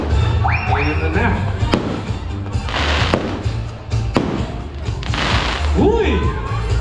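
Fireworks bursting at a 100th birthday celebration in Pangasinan, a series of sharp bangs and crackling pops over several seconds, close and loud, with people talking and cheering throughout.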